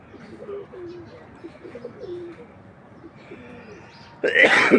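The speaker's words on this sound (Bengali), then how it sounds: "তো ওইখানে কবুতর আছে" Pigeons coo softly on a home rooftop, their low repeated calls rising and falling alongside faint chirps, with a sudden loud burst of noise, like wing flaps, in the final half second.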